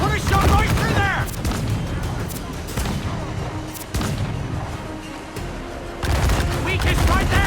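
Cannon fire from a sailing warship in Assassin's Creed 4 Black Flag, a dense volley of booming shots rolling through the whole span over sea ambience, with a shouting voice heard partway through.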